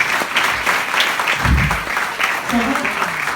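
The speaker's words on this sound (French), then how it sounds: "Vous pouvez l'applaudir pour moi." An audience at a stage hypnosis show applauds a volunteer, a steady dense wash of clapping throughout with voices talking over it.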